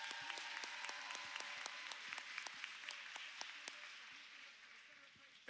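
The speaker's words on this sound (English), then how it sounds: "let's give them all a round of applause" Audience applause for team leaders being introduced one by one at a Miracle University event, a fairly quiet round of many hands with distinct individual claps standing out, fading slightly near the end, with faint voices mixed in.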